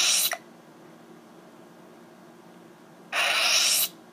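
Two short bursts of an electronic hum-and-whoosh from a Star Wars Episode 7 lightsaber effect powering off, one brief at the start and a longer one after a pause, over faint background hiss.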